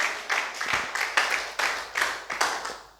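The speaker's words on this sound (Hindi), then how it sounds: "ताली बजाओ जोर से" An audience claps together in a church service, a loud, fast run of about a dozen sharp, evenly spaced hand claps that fills the room with no voices.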